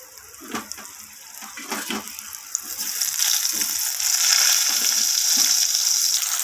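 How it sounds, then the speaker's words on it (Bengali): Sliced pointed gourd (potol) dropped into hot oil left over from frying potatoes: a bright, hissing sizzle that grows steadily louder and fuller, with a few soft clinks early on. "এরপর ওই একই তেলের মধ্যে কেটে রাখা পটলগুলোকে দিয়ে দিলাম"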